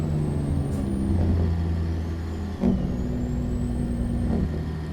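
In a video game, a Kenworth W900 truck engine idles with a low steady drone, while sharp air-brake hisses and faint squealing whines cut in a few times.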